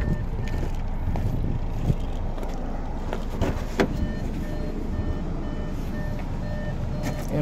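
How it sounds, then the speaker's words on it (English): Door-open warning chime in a 2014 Infiniti Q5 with the engine still running, a repeated soft electronic tone pulsing over a low idling hum inside the car. "that's just an alarm saying don't leave the car before turning it off"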